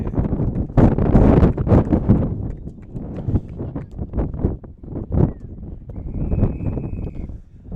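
Strong gusting wind buffeting an outdoor microphone at a schoolboy rugby match, rising and falling in loud bursts with no clear talk.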